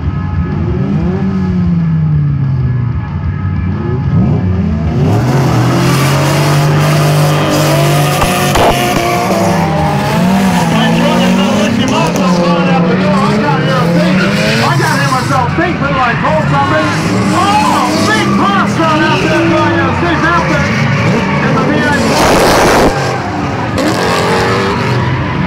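A drift train of cars at Parklands on the Gold Coast revs hard and skids, engines roaring and tyres squealing loudly and continuously as the pack slides past, with an announcer talking over the din.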